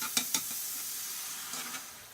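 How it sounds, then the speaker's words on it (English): White wine goes into a pan with tomatoes for Indian baingan bharta, giving a sizzling hiss with two sharp splashy bursts at the start and a couple of later scrapes, then fading. "as soon as that happens, then you want to dump in your half of a cup of white wine"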